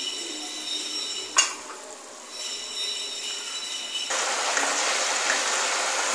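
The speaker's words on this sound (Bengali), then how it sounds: "এবার মাছটা দিয়ে দিলাম, এই 2 মিনিট একটু ফুটবে," A hilsa fish head sour curry with tamarind bubbles and sizzles in a pan after the fish goes in, a steady soft frying hiss with a brief clatter that grows louder partway through.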